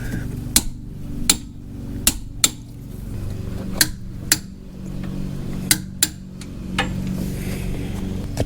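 Sway bar end link bolts on a Jeep JL Unlimited are torqued down, with sharp metallic clicks and knocks recurring irregularly over a low background hum.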